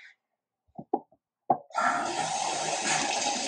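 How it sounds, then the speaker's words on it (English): Water from a kitchen tap runs into a kettle, starting as a steady rushing stream after a few small knocks and plops, continuing evenly and close by with no talk. "If you can hear the water, that's because I'm running it to put it in the kettle."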